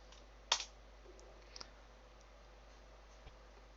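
A few isolated computer keyboard key clicks, faint and sparse in a quiet room, with a sharper tap near the start.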